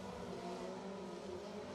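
Four-cylinder stock cars racing at Winder Barrow Speedway, a steady dense engine drone from several cars at once, continuous and fairly faint with no voices over it.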